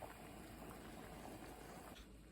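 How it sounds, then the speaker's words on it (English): Taralli dough rings boil in a pot of water, a soft, continuous bubbling and churning close by with no one speaking. "you want to give them a little scoop while they're in there in the boiling water so that they don't stick to the bottom"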